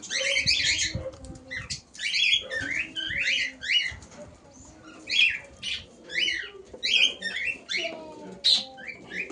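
Flock of mostly white lakka pigeons at a house, with bursts of wing flapping and cooing calls mixed with chirps and rustling, fairly close and continuous across the whole stretch.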